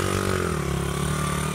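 A dirt bike engine runs on a sand riding course, loud and close, with a steady buzzing drone that dips slightly in pitch, held throughout with no talk.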